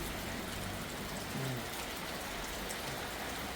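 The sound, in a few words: heavy rain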